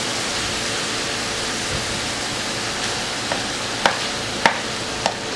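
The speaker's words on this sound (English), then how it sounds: "once you have this fully browned, you want to take your cream cheese and dump that in there" Browned meat with cream cheese fries in a pan, giving a steady, dense sizzle with stirring, and a few sharp utensil clicks near the end.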